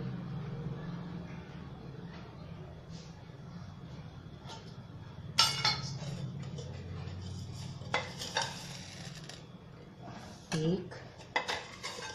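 A spoon clinks and scrapes against a pot as sugar is stirred into simmering dal vegetable soup, with several sharper metallic taps and a faint cooking hiss under brief quiet speech.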